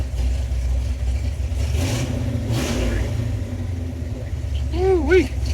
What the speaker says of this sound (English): Borla Exhaust.